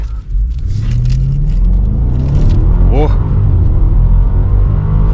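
A car's engine revs and accelerates hard in sport gearbox mode during a test drive at a US car auction, its pitch climbing steadily, loud and close inside the cabin while people talk.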